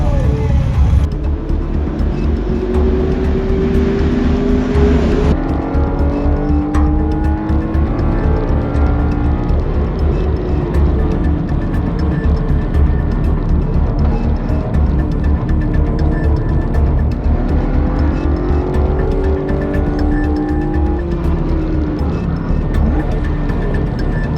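Race cars, among them Porsche and Aston Martin models and a NASCAR, roll in a pack behind a close loud engine drone, with rising and falling revs as cars pass nearby.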